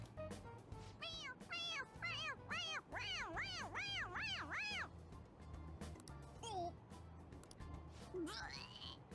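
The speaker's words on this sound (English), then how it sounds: "It meows when you press on its head." A stuffed toy cat in Persona 5 Royal gives a rapid string of repeated meows, then a few more scattered cries, loud and close over the game's background music.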